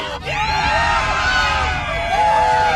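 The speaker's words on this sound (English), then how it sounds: "Let's have a cheer on Titus too." A crowd cheers in Borderlands 3 with sustained shouts and whoops close up, the roar rising and falling in waves over the full stretch.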